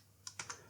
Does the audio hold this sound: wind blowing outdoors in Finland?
no